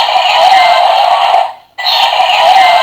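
Second looping Z-Lance Arrow waiting sound from a knockoff DX Beliarok toy sword, a loud, bright electronic tone through a small speaker, steady and nonstop apart from one short dropout near the middle.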